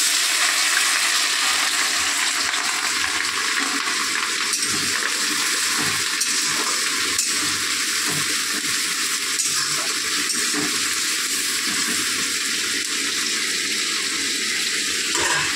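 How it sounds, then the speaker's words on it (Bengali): Chopped onion frying in oil in a small pan, a dense, even hiss and sizzle lasting throughout, close and steady with faint bubbling, no voices. "পেঁয়াজটা ভাজা হোক"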